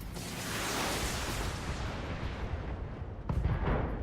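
Mech weapons firing in the BattleTech video game, a dense sustained roar of gunfire and blasts with a sharper burst near the end, loud and without talk.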